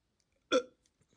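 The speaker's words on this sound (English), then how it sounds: "I'm about to burp" A single short, close burp sounds once in an otherwise quiet room.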